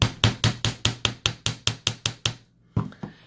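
A smooth hammer strikes a wire toe ring in a steady run of about a dozen sharp metallic taps, then a short pause and one more tap, close and clear.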